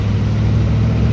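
A 1948 Allard L2 V8 car engine pulls in top gear at around 40 mph, a steady, loud, low droning rumble heard from inside the car with no voices.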